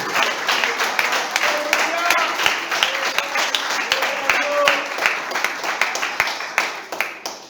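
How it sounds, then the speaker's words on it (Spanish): Congregation clapping during a church service, a steady wash of applause with singing or voices mixed over it throughout. "Aplaudan, mi vida."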